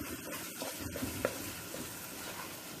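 Stuffing rice for mahshi being mixed by hand or spoon: soft, close, continuous stirring and rustling with a faint sizzling texture and a few light clicks, no talk.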